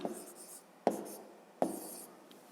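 Numbers being written by hand with a pen or chalk for a long-division problem: a few quiet scratchy strokes broken by two sharp taps, close and faint with no talk.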